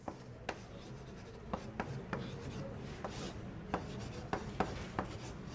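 Chalk taps and scrapes on a classroom board during a calculus lecture, sharp irregular strokes standing out over a low room hum.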